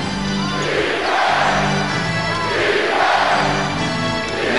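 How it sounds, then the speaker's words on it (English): Basketball arena crowd at Madison Square Garden during an NBA regular-season game between the Phoenix Suns and New York Knicks, a loud, sustained roar of cheering that swells and rolls continuously throughout. "Madison Square Garden crowd is alive"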